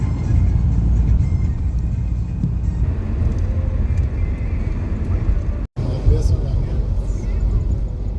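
A bus on the road to Berat, Albania, fills the ride with a steady, loud engine and road rumble that barely changes, broken only by a split-second dropout near the end.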